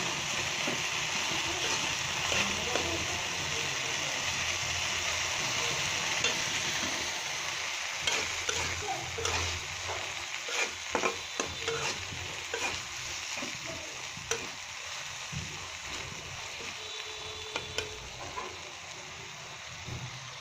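Lotka dried fish bhorta is stir-fried in a pan with a constant hiss of frying. A spatula scrapes and taps the pan close by in irregular bursts, and there is no speech.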